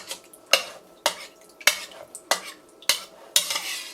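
Glue mixture for wet mounting a Chinese brush painting is stirred in a container: about seven evenly spaced, close scraping strokes, each a sharp swish that fades quickly, with no talking.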